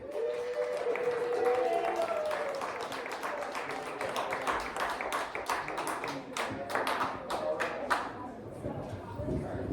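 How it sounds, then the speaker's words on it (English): Audience applause at a comedy show as Dave Z is welcomed to the stage, a steady burst of clapping from a small crowd that tapers off after several seconds, with voices and a cheer mixed in. "Let's give a round of applause to Dave Z."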